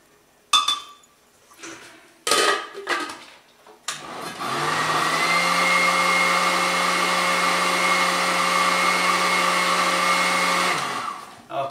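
A blender purees a duck liver parfait mixture, whirring loudly and steadily for about seven seconds after a few clinks of glass as the jar is handled.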